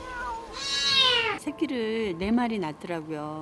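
A kitten gives a long, loud meow, rising then falling, then cries a few more times in wavering calls. A person speaks over the later part of the cries.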